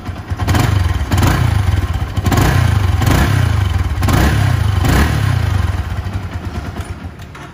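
Yamaha R15 v1 sport motorcycle with stock exhaust and about 22,000 km, running close by with a steady, fairly smooth engine note that rises and falls in several gentle revs before easing off.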